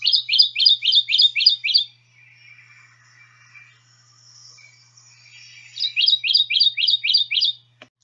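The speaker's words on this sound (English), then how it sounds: "Our Kentucky warbler produces an almost cardinal-like, with a rich quality" Two bright series of rich, cardinal-like whistled notes from a Kentucky warbler, each a quick run of about six repeated phrases, with quieter distant birdsong filling the gap between them.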